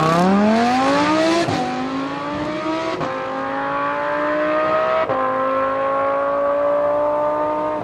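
A Tesla electric car, likely a Model X P100D, launching hard from a standstill: a loud, steady rising whine that climbs in pitch, with brief step breaks around 1.5, 3 and 5 seconds before settling into a sustained high tone.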